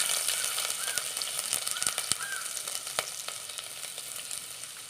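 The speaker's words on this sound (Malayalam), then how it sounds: "കുറച്ച് വെളിച്ചെണ്ണ ഒഴിച്ച് കൊടുത്തിട്ടുണ്ട്. പിന്നെ ഇഞ്ചി ഇട്ട് കൊടുക്കാം." Ginger frying in hot coconut oil crackles and sizzles steadily, with sharp pops and small clicks scattered throughout; close and fairly loud with no voices.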